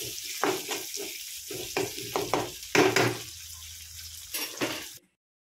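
Curry leaves fry in a pan of bachelor-style sambar and are stirred, giving a crackling sizzle with irregular bursts of scraping and spluttering that stops abruptly near the end.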